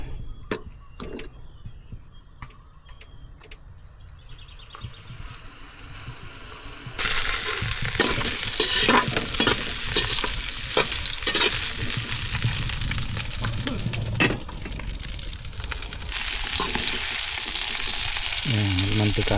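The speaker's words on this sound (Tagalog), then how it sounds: "ipiprito natin sa sariling mantika" Food fries in its own rendered oil in a pan, starting as a quieter crackle, then jumping into a loud, dense sizzle with irregular pops and stirring scrapes that continues throughout.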